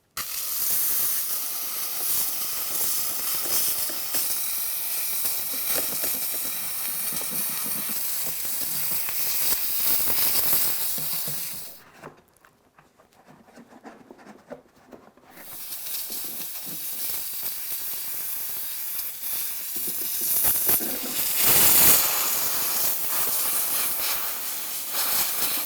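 A BISSELL Steam Shot OmniReach portable steam cleaner works over tile and grout with a loud, continuous hiss that cuts out to near silence for a few seconds, then resumes and keeps going to the end.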